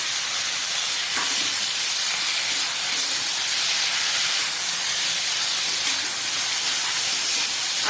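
Elephant foot yam stalks hit a hot pan with fried coconut and cumin paste, giving a loud, steady hiss of sizzling that holds unbroken throughout, close up with no speech.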